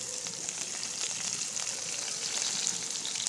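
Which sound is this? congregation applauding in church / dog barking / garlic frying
garlic frying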